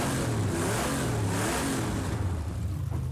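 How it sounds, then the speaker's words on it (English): A Trans Am Camaro racing car in Project Cars 2 drives on snow, its engine revving steadily loud and close throughout with a deep, rumbling growl and no talk. "It is a beautiful soundtrack from our Camaro here."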